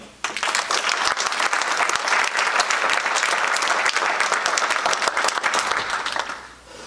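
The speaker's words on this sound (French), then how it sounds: "Je vous demande de les applaudir" Audience at an association meeting applauds its guests, with dense, steady clapping that starts abruptly and holds for several seconds before fading out at the end.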